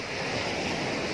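Sea waves at a beach resort, a continuous broadband rush of surf mixed with wind buffeting the microphone, steady and fairly loud throughout the short stretch.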